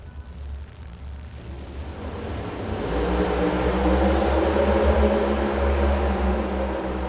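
NHRA drag car with Roots-blown engine running down the strip at zMax Dragway, a quieter start that swells into a heavy, sustained low roar and holds there, with no talking.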